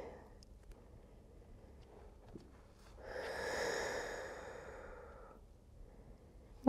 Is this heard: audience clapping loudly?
no